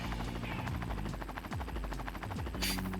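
Helicopter in the Armored Core video game, a fast rhythmic rotor chop with buzzing whine, steady and close, with a brief bright burst near the end.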